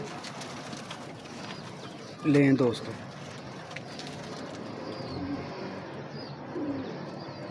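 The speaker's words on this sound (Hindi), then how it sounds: "पूरे बाजी मेकर कबूतर हैं।" Pet pigeons of a prized fancy breed kept at a home loft, a short close burst of low cooing in the middle, then quieter bird calls, with a voice speaking briefly.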